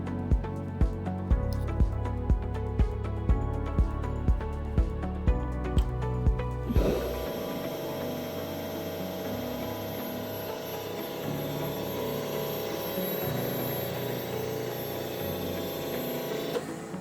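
A four-ball wear and weld tester runs a grease extreme-pressure test at 250 kilograms of force, first ticking in a steady rhythm, then settling into a loud continuous mechanical whir and hum with a high whine.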